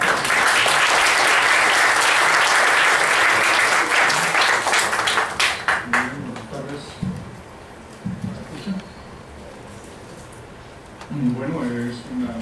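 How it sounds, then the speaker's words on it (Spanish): An audience claps loudly and steadily to welcome a speaker at a university tribute event. The applause fades out after about six seconds, and a voice then talks over the quieter room. "damos un aplauso y damos la bienvenida al profesor Santiago."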